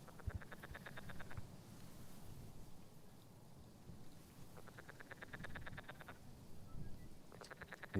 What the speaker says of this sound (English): You hear the frogs over there?